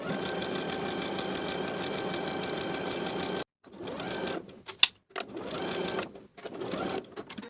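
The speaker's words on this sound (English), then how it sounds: "Then we'll sew from the end of those front stitches across that main center seam to the top of the back pant piece" A domestic sewing machine stitches the side seams of a pair of summer shorts, running in a steady continuous whir for a few seconds, then stopping and restarting in several short bursts with brief pauses between them.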